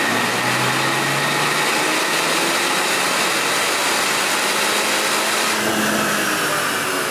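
A stock BMW 330i with the B48 engine running at full load on a dyno during a baseline pull. A loud, steady drone with a rising whine lasts the whole stretch, with no talking.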